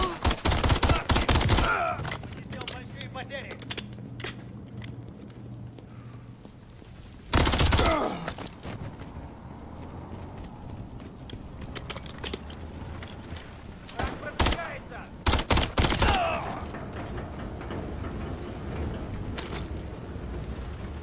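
Bursts of automatic gunfire and heavy booms from enemy fire in the Modern Warfare III campaign, loud rattling volleys in several clusters with quieter stretches between, as someone talks over the combat.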